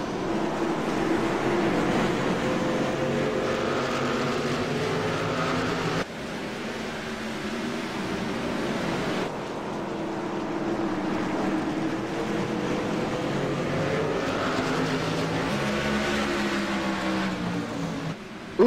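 A pack of race trucks circles Martinsville in a Truck Series 200 race, engines roaring continuously with overlapping notes that rise and fall as they pass, loud and without talk.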